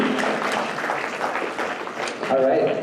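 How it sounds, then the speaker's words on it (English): An audience at a live church community fundraiser giving a round of applause, clapping and cheering mixed with people talking and a whoop over it. "Another round of applause"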